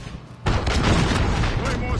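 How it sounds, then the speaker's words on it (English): A cruise missile strike in Call of Duty Modern Warfare hits with a sudden loud boom, then a dense rumbling roar of debris and gunfire that lingers for over a second. "Cruise missile."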